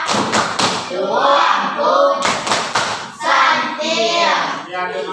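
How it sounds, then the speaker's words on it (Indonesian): A classroom group performs a rhythmic clapping chant, bursts of several quick claps repeating in a patterned beat, loud and close, with voices chanting between the claps. "kita kasih tepuk santian kepada kelompok 1 dulu"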